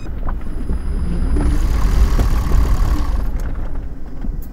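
A Gen 2 Toyota Prius hybrid accelerates gently, its engine a steady low rumble that swells slightly through the middle, with wind buffeting the microphone.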